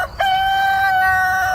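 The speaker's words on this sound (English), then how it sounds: "Here's a little shot of my rooster." A rooster crows loud and close on a small cover-crop farm: one long, sustained call rising at the start and holding a bright, steady tone to the end, alone with no talk.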